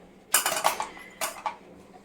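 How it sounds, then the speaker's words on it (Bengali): Freshly washed pots and dishes are stacked away, with two short clusters of clattering metal and clinking close by in a quiet room. "এই যেখানে বাসন ধুয়ে দিয়ে গেছে, এগুলো রাখবো আমি গুছিয়ে।"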